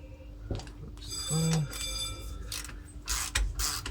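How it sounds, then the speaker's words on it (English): Ratcheting socket wrench working on bolts on the rear brake backing plate of a Sprinter van, with a few short clicks and a brief metallic squeal standing out over low workshop background noise. "I'm going to put the socket on."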